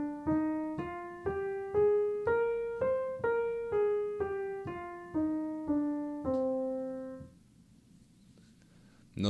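C natural minor scale played one clean note at a time, eight notes rising then falling in even rhythm, ending on a sustained low tone that fades to quiet.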